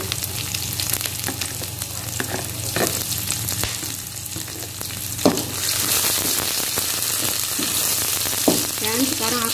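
Chili dropped into hot oil for an Indonesian stir-fry of green beans and tempeh sizzles loudly and steadily, with the hiss growing brighter partway through and occasional clicks from stirring.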